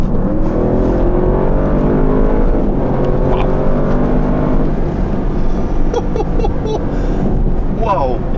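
A 2023 Audi RS7 Performance accelerates hard to overtake on the road, its engine drone rising in pitch over steady loud road and wind noise, while a person talks over it inside the cabin.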